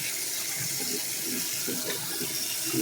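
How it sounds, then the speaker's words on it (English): Tap water running steadily while bottles are rinsed out, a continuous loud rushing with uneven gurgling and sloshing swirls as the bottles fill, no talk. "This is going to be like 7 minutes of just me rinsing these out"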